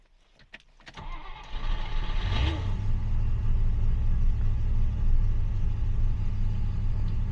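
A Rover P6 with a V8 engine in poor health cranks and fires, then settles into a loud, low rumbling idle that runs on unevenly after a couple of seconds of starter noise, close by with no talking.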